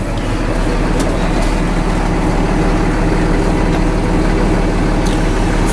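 A tractor-trailer truck's diesel engine idles steadily during a parking brake tug test, a loud, continuous low rumble with no break for the whole stretch.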